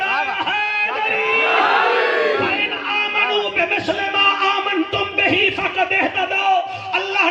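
Large religious gathering at a Shan e Hazrat Ali bayan crowd answering a Takbir call with a loud, sustained collective shout, then breaking into chatter and scattered voices.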